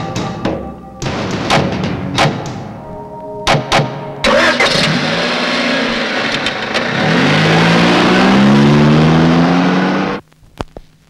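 A car engine cranks and catches after a few thumps, then revs steadily and loudly as the vehicle backs up, settling before cutting off near the end; no talk over it.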